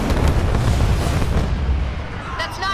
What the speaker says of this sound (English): launch Archer missiles now